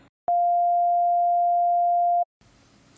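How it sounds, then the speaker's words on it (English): Pure sine wave from a synthesizer, a single clean steady tone that starts abruptly, holds unchanged for about two seconds, then cuts off, followed by faint room noise. "Now I'm going to demonstrate that by playing a sine wave."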